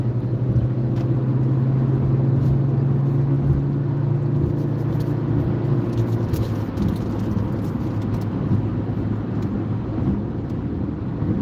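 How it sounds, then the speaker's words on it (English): An old Caravan minivan accelerates up to speed, heard from inside the cabin as a loud, steady engine drone over road rumble, with its tone shifting partway through and no one talking. "Now I'm going to accelerate up to speed."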